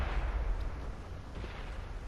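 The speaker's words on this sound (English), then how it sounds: "we're shooting at our almost clone brother over there, the Pershing" Tank cannon fire in World of Tanks on PS4, a deep heavy boom rumbling out at the start and decaying into a long low roar with a faint later thump.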